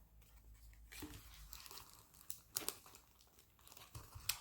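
A plastic bag wrapped around a budget pan-tilt security camera crinkles and rustles as it is handled and pulled against tape, in close, irregular bursts of crackling with no talking.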